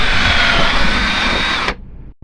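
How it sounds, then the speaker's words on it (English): A power drill whines steadily at high pitch as the bit bores through the metal of an RV window crank, then cuts off abruptly and spins down. "We're going to drill through these."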